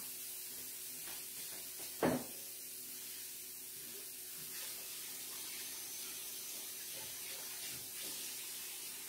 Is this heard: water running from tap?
yes